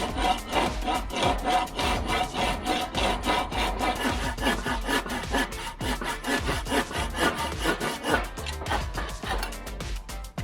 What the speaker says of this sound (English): I'm using a hand saw because I don't have a power saw at my house right now